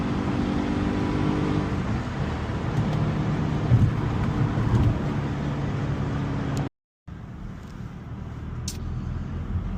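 An SRT car accelerates at full throttle on a highway, a steady loud engine drone with road and wind noise that cuts out briefly before resuming, with no speech.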